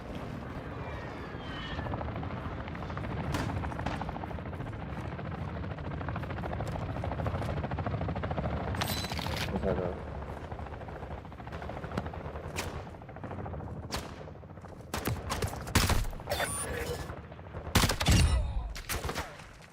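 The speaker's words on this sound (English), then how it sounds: "I thought I heard someone shooting here." Gunfire in the video game Call of Duty DMZ, with a helicopter's rotor drone underneath and bursts of shots growing sharper and louder toward the end, no talk.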